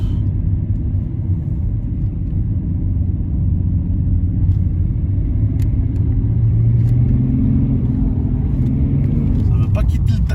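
A BMW 525 TDS diesel car driving after a jump-start, with a steady, deep engine rumble that slowly rises in pitch, heard from inside the cabin along with light clicks and road noise.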